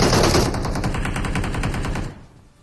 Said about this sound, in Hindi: फाइट चल रही थी बाहर की साइड और फायर वायर हो रहा था यहाँ पे